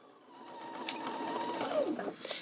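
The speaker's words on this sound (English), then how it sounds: "we're going to carefully sew this at the 5/8 of an inch seam allowance" A sewing machine runs steadily, stitching a coat seam at a 5/8 inch allowance. The whir is continuous, close and fairly loud for about two and a half seconds, with a few brief clicks and no voices.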